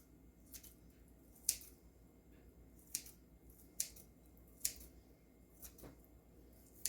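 Ham snipped into small pieces with kitchen shears, a series of sharp, crisp scissor snips at uneven intervals, close and fairly quiet against a soft kitchen background.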